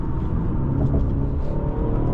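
A 2019 Mercedes-Benz CLS 450 accelerates in Sport Plus mode with a deep, steady engine drone and rumble heard from inside the cabin, holding level throughout with no voices.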